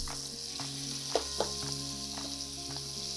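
Lamb chops sear in a hot pan with a steady, fairly quiet sizzle, broken by a couple of sharp clinks or shifts from a utensil, and a low hum underneath, with no talking.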